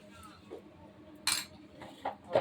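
A spoon clinks against a bowl while salt is added, producing three or four sharp, fairly faint metallic taps spread over a quiet kitchen background.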